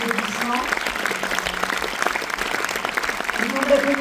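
A theater audience applauds the actresses and actors at a Paris film premiere at the Pathé Palace, a steady wash of clapping lasting throughout while voices rise over it near the end.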